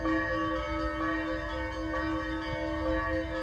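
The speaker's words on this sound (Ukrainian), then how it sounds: "Дзвонять дзвони" Church bells ring on the outskirts of Kyiv in autumn, a steady sustained peal of layered, overlapping tones that holds through the whole stretch at moderate loudness with no talk.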